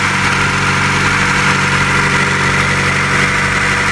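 A 1996 Acura Integra idles steadily after a head gasket replacement, its close, loud engine hum holding an even rhythm with no talking.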